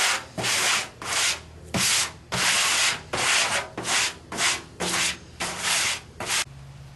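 Rhythmic sanding strokes on rusty metal, about ten rough scraping passes with brief pauses between them, close up and loud, no talking.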